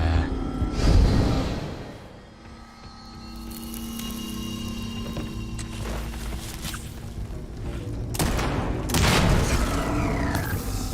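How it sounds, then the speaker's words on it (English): Explosions in the space game Starfield, a deep boom near the start and another around eight seconds, set against a steady droning game soundscape with rumbling low end. "why is it gonna explode every time I get close?"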